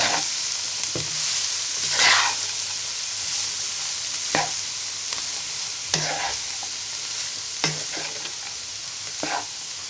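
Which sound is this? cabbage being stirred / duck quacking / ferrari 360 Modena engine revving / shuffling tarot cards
cabbage being stirred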